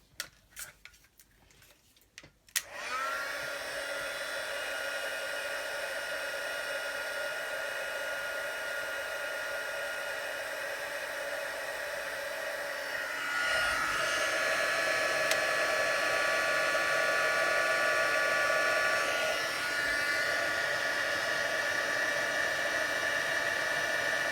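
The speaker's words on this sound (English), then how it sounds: "Put your volume down if you don't like the noise of the heat tool." A craft heat tool blows hot air for about twenty seconds as a loud, steady whooshing roar that rises slightly in level partway through, preceded by a few brief clicks and handling taps.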